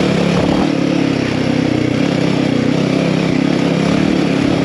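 A Royal Enfield Himalayan 450 Rally with performance upgrades rides a dirt trail, its engine a loud, steady, close rumble with wind and clatter mixed in throughout, no voices.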